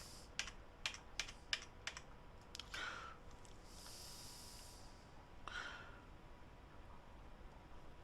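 Keys tapped on a computer keyboard while typing an accounting entry, a few quick bursts of light clicks followed by soft breathy noises, faint and close in a quiet room.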